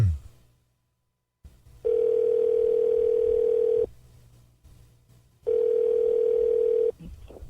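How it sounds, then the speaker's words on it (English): A telephone tone sounds after a number is dialed: two long, steady, loud tones of about two and one and a half seconds, separated by a quiet gap, over faint line hiss. "All right, I've dialed the number."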